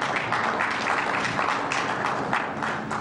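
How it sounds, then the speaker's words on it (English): Audience applause in a room during a talk on public service, a steady wash of clapping held at an even level for a few seconds with no voices over it. "Thank you for clapping."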